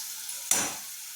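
Chutney ingredients frying in a pan, with a low, faint sizzle that jumps into a brief loud hiss burst midway, then fades back to a quiet crackle.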